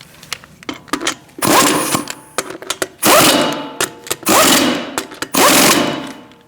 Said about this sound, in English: Now you can tighten them in a crisscross manner.